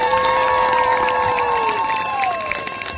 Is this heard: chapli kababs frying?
no